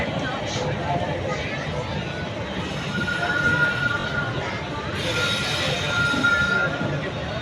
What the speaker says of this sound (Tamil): கரெக்டாக கிளம்புதுங்க நாகப்பட்டினத்துலேருந்து வண்டி கிளம்புது பாருங்கள்